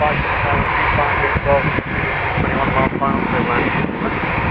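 An Etihad Boeing 787 Dreamliner jet roars on runway 27 at Toronto Pearson airport, a loud, steady broadband engine rumble with people talking over it.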